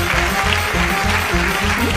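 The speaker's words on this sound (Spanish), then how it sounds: "pido un fuerte aplauso para Ignatius Farray" A studio audience applauds a comedian, Ignatius Farray, as he is welcomed onto a karaoke show recorded in a parking lot; dense steady clapping fills the whole stretch, loud and close, with a faint rhythmic music beat underneath.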